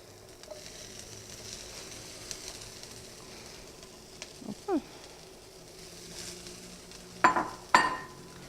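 Desalted, cooked and shredded charque jerky frying with onions in a pan for carreteiro, a faint low sizzle broken by a few brief scraping stirs near the end.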